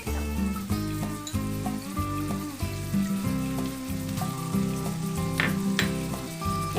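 Red South Indian kara chutney mixture sizzles loudly and continuously in a pan after a splash of water, with stirring scrapes mixed into the crackle.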